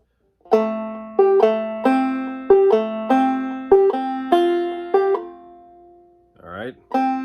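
A banjo plays a passage of "We Three Kings" in clawhammer style, about ten close, bright plucked notes with ringing decay in a steady rhythm, then a brief pause and a final strum.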